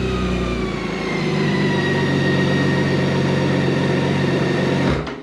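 A BMW K1600 GT motorcycle idles steadily nearby, its six-cylinder engine giving a smooth, continuous drone with a constant low hum for about five seconds before it cuts off abruptly at the end.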